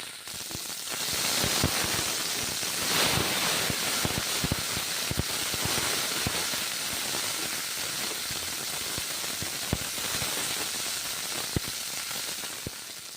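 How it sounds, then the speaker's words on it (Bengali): Spices sizzle and crackle in hot mustard oil in a wok, a steady dense hiss broken by frequent sharp pops, loud and close with no talking. "সর্ষের তেল আর মশলা ছেড়ে দিয়েছি, তারপর ভেজে নিচ্ছি।"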